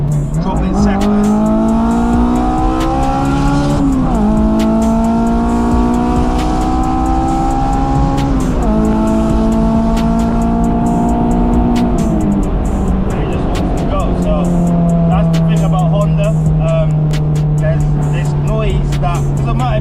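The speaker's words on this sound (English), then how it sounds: "Honest to God, you can't beat a Honda when it comes to race noise. Listen to that." A Honda S2000 engine screams at high RPM, climbing through several rising revs with brief shift dips before settling into a steady lower drone, loud and close throughout.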